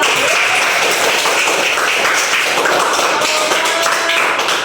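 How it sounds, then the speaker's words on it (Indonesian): Children clap hands together, steady and energetic, a dense crowd-like patter of many small hands that continues without pause. "mari tepuk tangan untuk Ilsa."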